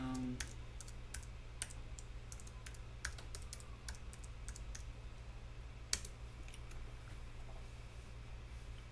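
Rapid typing of a password on a computer keyboard at a desk, a dense run of close, crisp key clicks with uneven rhythm over a steady low electrical hum.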